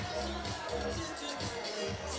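Crowd at a women's beach volleyball gold medal match in Espinho, Portugal, a steady roar of massed voices with rising swells of cheering, continuous and fairly distant.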